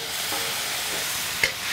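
Tomatoes added to spices already frying in a pan, giving a steady, close sizzle with one brief clack partway through.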